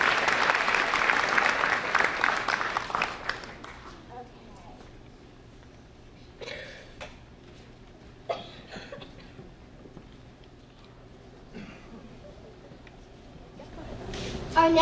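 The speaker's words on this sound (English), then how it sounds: "can we just have another round of applause for our soloists?" An audience at an elementary school winter band and choir concert applauds loudly for a few seconds, the clapping quickly fading into scattered claps, shuffling and quiet room noise.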